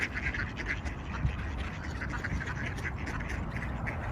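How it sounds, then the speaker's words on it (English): A flock of ducks keeps up a constant chatter of nearby quacks as they scramble for seeds, cereal and broken bread, the calls overlapping over outdoor background noise. "The duck eat like they are very hungry."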